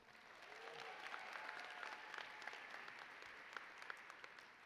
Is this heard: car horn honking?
no